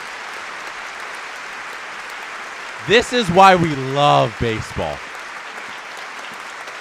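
Steady clapping from a watchalong audience at a Blue Jays vs Mariners ALCS Game 3 stream, an even wash of applause running throughout, with someone briefly speaking over it midway.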